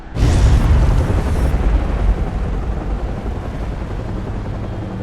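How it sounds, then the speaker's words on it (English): Fireworks explode in a Batman: Arkham Origins cutscene: a sudden loud blast, then a dense, crackling, rumbling roar that slowly fades, with no voices. "Guess the fireworks are going off early."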